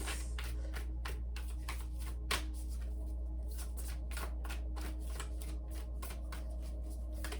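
Tarot cards riffled and shuffled by hand for a card draw, a steady run of crisp rapid flutters and snaps in close, quiet surroundings, with no talking.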